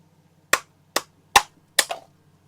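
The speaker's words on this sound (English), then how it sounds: "hammers are good at getting things out of things" Hammer knocking a stuck part out of a VW 2.5L five-cylinder engine, four sharp metallic strikes spaced about half a second apart, close and loud against a quiet background, the last blow with a quick rebound.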